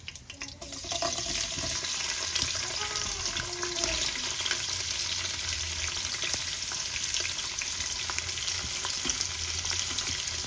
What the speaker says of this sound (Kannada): ಈರುಳ್ಳಿ ಹಾಕೋತಾ ಇದ್ದೀವಿ, ಹಚ್ಕೊಂಡಿರೋ ಈರುಳ್ಳಿ.